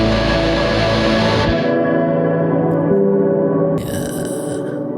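A song plays loud and dense, with a slow-building wall of heavy distortion and echo that envelops the whole sound, briefly thinning out before the noisy layers swell back in.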